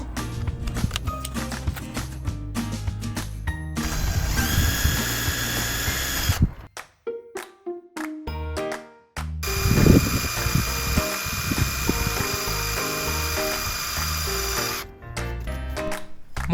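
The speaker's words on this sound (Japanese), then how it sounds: "ドリルで下穴を開けていきます。" A power drill bores a pilot hole for a high-mount stop lamp on a used Indy 727 camper van, whirring in loud sustained bursts with short pauses and clattering handling noise between them.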